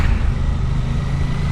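A Suzuki GSX-8R motorcycle with a 776cc parallel-twin engine running, a loud, steady low rumble that stays close and constant throughout with no talk.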